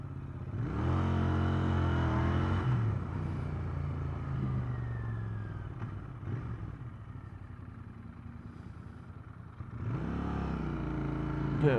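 A Royal Enfield Continental GT motorcycle ridden on the road, engine rising and falling with throttle changes, a hesitant flat spot in the pull between revs, close and steady with wind rumble.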